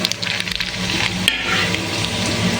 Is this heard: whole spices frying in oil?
yes